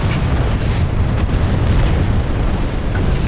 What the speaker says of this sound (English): Whoa, I think I just saw a missile.